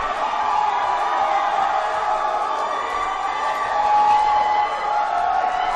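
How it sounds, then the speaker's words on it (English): A wrestling crowd at a live event cheers and roars without letup, a dense, loud wash of voices that swells slightly near the end. "This crowd is going bananas"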